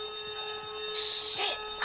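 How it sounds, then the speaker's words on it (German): An alarm rings during a heist on the Union Depository in GTA V Online, Tuners update: a steady electronic tone holding level throughout, with faint voices underneath. "Jetzt der Alarm rausgekommen."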